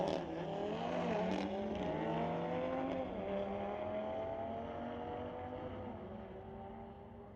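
A 2017 BMW and a 2019 Audi drag race at a street-legal night at Mission Raceway Park, with a sustained engine roar climbing in pitch through several gear changes, then slowly fading as the cars pull away down the track.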